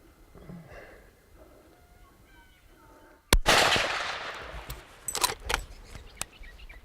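A .375 caliber rifle fires while hunting outdoors: one sharp, loud gunshot cracks out after quiet ambience, followed by a rustling, clattering decay and a few fainter sharp knocks.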